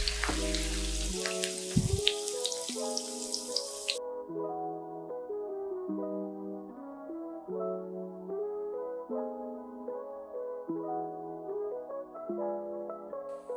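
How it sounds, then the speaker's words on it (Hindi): Poha cutlets shallow-frying in hot oil give a bright, crackling sizzle for the first few seconds, then the frying cuts out and gentle instrumental music plays alone to the end. "ये देखिए, आप थोड़ा थोड़ा इन पे ऑयल साइड से उठा के डालते रहिए गरम ऑयल"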